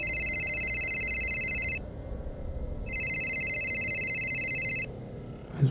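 A telephone rings in two long electronic trills, each about two seconds, separated by a short pause, clear and steady over a faint background hum, with no talking.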